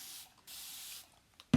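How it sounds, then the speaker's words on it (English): Two short hisses from a spray bottle misting water onto a hexagon chalk board, the first brief and the second longer, followed by a small knock, close and clear with no talking. "I'm gonna spray this real quick with a little water."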